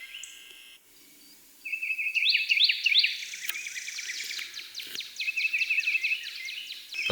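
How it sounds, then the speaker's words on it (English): Birds sing outdoors on an open rural property, with steady chirps and rapid trills layered over quiet background hiss, fairly close and continuous throughout. "But I'm sure you can hear all the birds."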